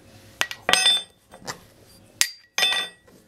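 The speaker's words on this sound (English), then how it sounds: "This is a cheaper, apparently stainless steel spoon, but it's ferrous. Sticks to the magnet." A cheap ferrous stainless steel spoon clinks against a magnet salvaged from a big speaker, giving four or five sharp, close metallic clinks with short ringing tails and quiet pauses between them.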